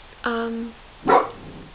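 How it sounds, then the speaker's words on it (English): A pet dog indoors gives two short, sharp barks close to the microphone, the first a clear tonal yap and the second a rougher bark, with quiet between them. "Yes, my dog's name's Fido"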